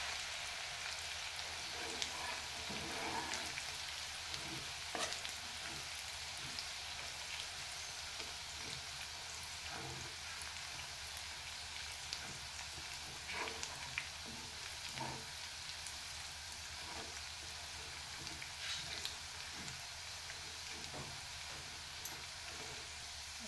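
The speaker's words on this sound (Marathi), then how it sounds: "लसूण चांगला भाजून द्यायचा, लाल होईपर्यंत खुसखुशीत असं भाजून द्यायचं." Garlic fries with cumin in oil until red and crisp for a tempering, making a faint, continuous sizzle dotted with small pops and scattered crackles, steady throughout with no voices.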